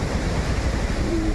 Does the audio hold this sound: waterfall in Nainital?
yes